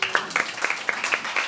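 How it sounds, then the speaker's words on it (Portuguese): A church congregation claps in a quick, irregular patter of many hands, steady and fairly close for a brief stretch, with no one speaking over it. "aplaudindo a Jesus"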